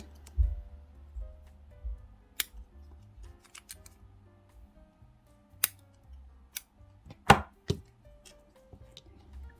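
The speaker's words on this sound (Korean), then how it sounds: "이 부분 바짝 자르고 이 부분 이렇게 정리를 해주시면 돼요" Small scissors snip off trailing yarn ends on a handmade crochet card wallet, a few sharp isolated clicks spread across a quiet tabletop with soft handling rustle between them.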